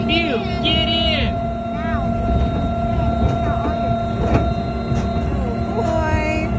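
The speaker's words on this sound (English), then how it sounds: "We're on the train. We're on the choo-choo." A small amusement park train ride at Gilroy Gardens rumbles along steadily with a constant mechanical drone and rattles, while children's voices and chatter carry over the top throughout.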